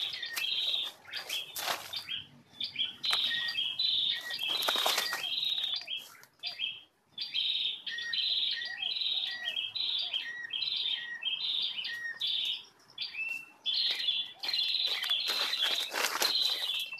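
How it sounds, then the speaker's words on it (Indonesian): A prinia (prenjak) caught in a snare chirps repeatedly in rapid, high tweeting bursts, close and fairly loud, with brief rustling and wing flutter between calls and no talk. "dapat satu ini bos. Perenjak ini."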